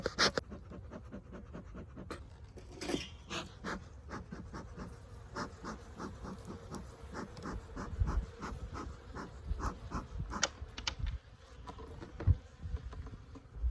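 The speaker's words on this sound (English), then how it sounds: "We got quite a few bees." Honey bees buzzing inside a live hive during a late-winter inspection, a low continuous drone with scratchy crawling and frame noises close by, no voices.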